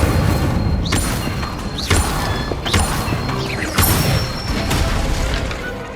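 Fire spell effects cast repeatedly in the Hogwarts Legacy video game, with several whooshing bursts and booming impacts layered over a dense, loud game soundscape, no speech.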